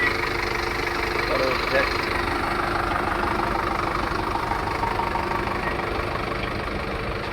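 A tractor engine labors steadily at close range as it pulls a heavily loaded trolley with the clutch released, producing a loud, continuous throbbing drone that holds throughout without breaks.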